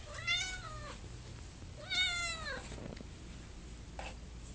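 A cat meows twice in clear, drawn-out calls a second or two apart, then gives a shorter, softer mew, each fairly close against a quiet background hum.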